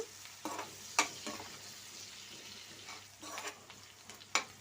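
Chopped onions and green chilies sizzle steadily in a hot pan for a brinjal and dry fish curry, with occasional sharp scrapes and stirs of a spoon against the metal, close and fairly quiet.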